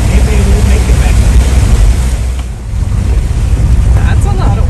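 Strong rushing water surges around a vehicle attempting a deep river crossing near Alotau, Milne Bay, Papua New Guinea, a loud continuous churning roar with wind buffeting the microphone and faint voices in the background.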